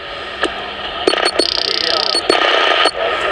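A loud, distorted CB radio lower sideband signal on channel 625 crackles over steady static hiss, with choppy bursts and warbling tones cutting in and out.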